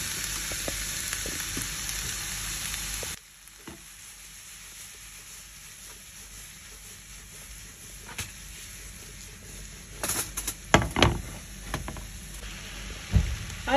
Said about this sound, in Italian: E faccio caramellare i pomodorini.